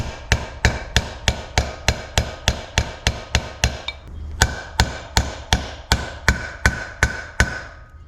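Steady metallic hammer taps drive a trailer wheel bearing race into its hub in an even rhythm, about two per second, close and sharp, over a low background hum.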